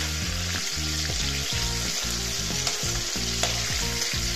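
Capsicum and tomatoes sauté over a full-flame gas burner for a dhaba-style paneer dish, giving a steady loud sizzle with a regular rhythmic pulsing, close and continuous with no one talking.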